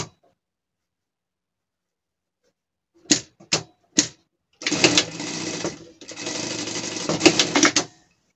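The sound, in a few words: sewing machine sewing a seam on a pet costume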